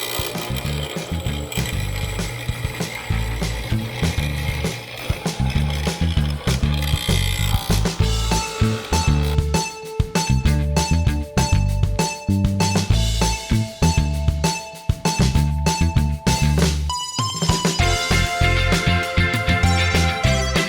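A mortising chisel fitted with an auger bit bores square holes in wood for a workbench's mortise-and-tenon joints, giving a loud, continuous, close-up grinding whine with rough cutting texture that shifts in pitch as it plunges.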